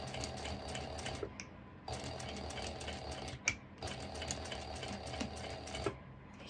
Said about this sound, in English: I did a few stitches, just enough so the strap is secured